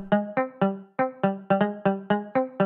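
Electric guitar sample from FL Studio's stock sounds, played as a rhythmic run of about ten sharply plucked, bright harmonic notes with quick decays, close and alone with no voices.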